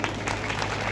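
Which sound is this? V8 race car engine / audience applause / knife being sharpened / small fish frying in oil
audience applause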